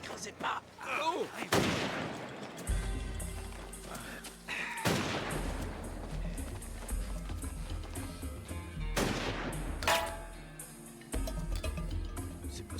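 Gunshots from someone firing nearby, three or four sharp cracks spread over the stretch, each echoing under a low rumble while people talk quietly in between.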